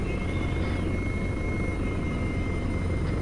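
Arma 3 video game helicopter descending, a steady, loud rotor and engine drone that holds unbroken throughout with a faint high whine on top.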